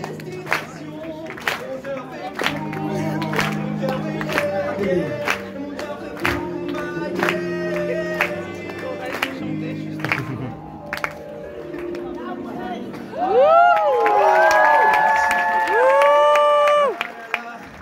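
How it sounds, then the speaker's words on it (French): A talent show finale crowd in Saint-Denis claps, cheers and chatters in scattered bursts with voices over it, rising to a louder stretch of shouting and whooping near the end. "Applaudissez-le s'il vous plaît"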